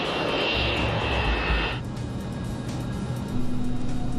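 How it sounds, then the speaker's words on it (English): Boeing 727 jet airliner holding at the runway threshold before takeoff, a loud steady engine roar with a high whine that drops away after a couple of seconds, leaving a constant rumbling idle. "The 727 is now at the runway threshold,"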